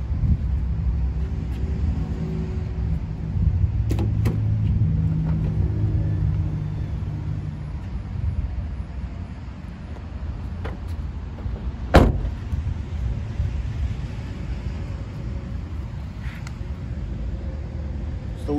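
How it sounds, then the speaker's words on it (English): A car's power sliding door runs with a steady mechanical rumble and hum, punctuated by a sharp latching clunk partway through, heard close with no talking. "power sliding doors."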